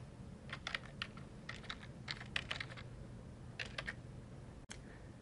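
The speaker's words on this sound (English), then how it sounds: "In the first box, type the topic that you are looking for." Keystrokes on a computer keyboard as a search topic is typed, quiet bursts of several quick clicks with short pauses, one sharper tap near the end, no voices.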